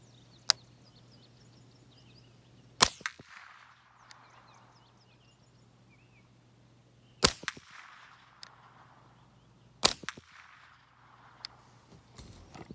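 A Remington 597 .22 LR rifle with a 70-round ProMag drum magazine fires its last three rounds, sharp, loud single shots spaced several seconds apart over a quiet outdoor background with a faint low hum.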